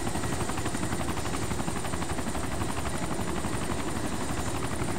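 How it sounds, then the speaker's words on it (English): A helicopter in the video game DayZ Origins flies with a loud, continuous rotor chop and engine roar filling the whole stretch, steady and close, with no talking. "Oh, there's another chopper down there."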